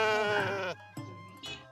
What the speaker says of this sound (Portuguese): ovelhas na traseira desse carro mínimo